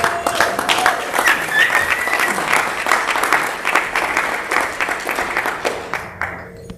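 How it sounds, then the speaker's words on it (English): An audience delivers a big round of applause for Darren and team, brisk sustained clapping with a few voices, tapering off at the very end. "can we give Darren and team a big round of applause?"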